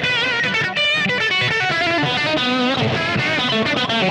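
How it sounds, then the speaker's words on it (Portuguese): Electric guitar played through a GarageTone Chainsaw pedal with light delay and reverb gives dense, saturated distorted notes that ring continuously and loudly without pause. "Então tem um delayzinho, um reverb de leve, e o ganho dele, como eu falei agora há pouco, ele é um pouquinho maior"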